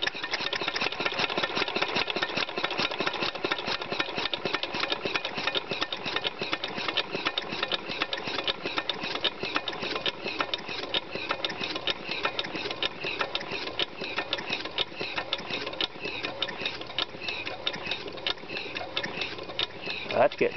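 Briggs engine on a WhirliBriggs running slowly, a rapid steady ticking chug that keeps an even rhythm throughout, close and fairly loud, with someone talking at times over it.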